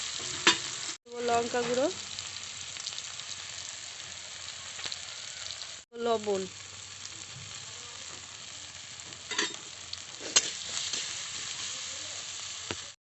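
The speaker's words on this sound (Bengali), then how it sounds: "এগুলো ততক্ষণে ভাজা হতে থাক" Chopped ginger, turmeric, chili powder and salt fry in hot oil in a kadai with a soft, continuous sizzle, cut by sharp clatters of stirring and pan knocks while someone talks over it.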